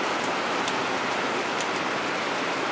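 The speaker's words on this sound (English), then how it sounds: "It's still raining" Steady rain falling after a big flood, a dense even hiss of drops with no break, fairly loud and close throughout, with no voices.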